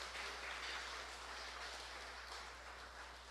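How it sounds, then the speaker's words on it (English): Warm applause from an audience at a Molineux community evening welcoming the Prime Minister, a steady broadband patter of clapping filling the whole moment without speech. "Let's acknowledge the presence with a warm round of applause of our Prime Minister, Right Honorable Dr. Denzel Douglas."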